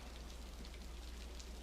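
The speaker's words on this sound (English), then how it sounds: "And the rain is so relaxing." Steady rain falls without pause, a soft, even hiss of drops that stays faint and constant throughout, with no voices.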